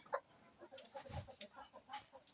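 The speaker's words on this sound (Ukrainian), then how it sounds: "Ось курочки" Hens cluck in a chicken coop, a faint run of short, overlapping clucks and murmurs at a moderate distance, with no talking.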